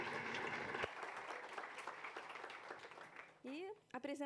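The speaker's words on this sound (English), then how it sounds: "So let's give him a round of applause" Audience at an education congress session applauding in a steady patter of claps, with a voice and whistle-like tones cutting in near the end.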